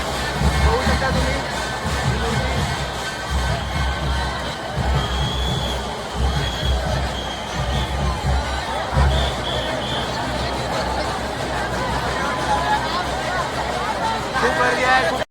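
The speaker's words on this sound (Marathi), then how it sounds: "खूप गर्दी आहे" Big crowd at the Chintamani Ganpati idol arrival procession: a dense, continuous hubbub of many voices with shouts and chatter, plus low rhythmic thumping throughout, loud and close with people talking nearby.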